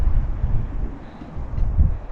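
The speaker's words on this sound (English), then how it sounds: "it's just gotten a little bit windy too" Wind buffeting a microphone on an exposed ridge at an abandoned ski resort in the Angeles National Forest, a steady low rumble that rises and falls in gusts, loud and close with no voices.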